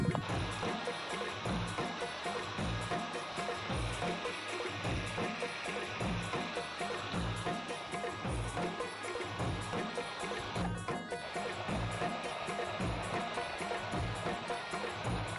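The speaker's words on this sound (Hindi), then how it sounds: "पानी की कल कल छल छल आवाज" Babbling water flows through a quiet, secluded area, a faint continuous burble with a soft pulsing rhythm and no voices.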